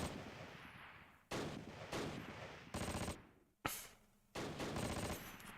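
Gunfire from a PIAT anti-tank weapon and other arms in the Close Combat Arnhem war game, heard as several loud bursts, each a second or so long, separated by short gaps.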